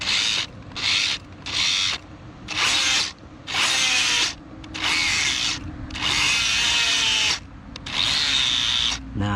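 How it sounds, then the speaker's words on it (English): Hosim X07 RC car motor whirring with the brake on, in repeated loud bursts of about a second each, separated by short pauses, with a rough mechanical grinding edge. "This motor's not supposed to be rotating like that."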